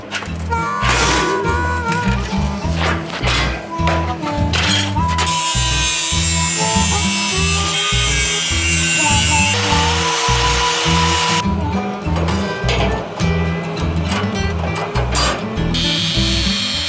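A power tool hacking out sheet metal for a 1948 GMC running board, loud and close, with a buzzing motor whine and rapid choppy cutting bursts that stop and restart throughout.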